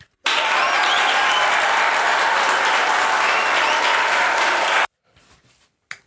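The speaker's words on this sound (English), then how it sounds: "Insert applause here." A crowd applauds loudly and steadily for several seconds, then the clapping cuts off abruptly, leaving near silence.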